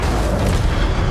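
An Incendio fire spell cast in the Hogwarts Legacy game, a loud, dense booming burst that fills the whole moment with a sustained roaring blast.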